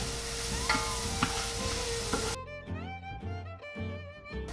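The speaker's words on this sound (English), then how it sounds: "So we're just going to stir it for a bit." Vegetables for jambalaya sizzle in a pan while being stirred with occasional scrapes, the frying hiss cutting off midway as tonal background music carries on alone.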